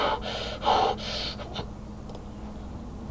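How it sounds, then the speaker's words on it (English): Breathing close to a loud, sensitive microphone: a few sharp, gasping breaths in the first second and a half, then quiet background hiss. "My mic is really loud, so you can hear my breathing."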